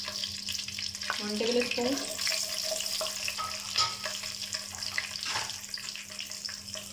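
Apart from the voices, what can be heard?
white cumin seeds sizzling in hot oil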